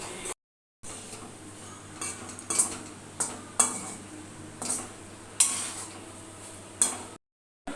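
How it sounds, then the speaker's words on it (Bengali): Cooked rice being fried in a pan with ghee, egg and leftover potato-okra fry, a utensil stirring and scraping in repeated clinking strokes over a faint steady sizzle, close by with no talk. "ও একটু ভাতটা ভাজছে"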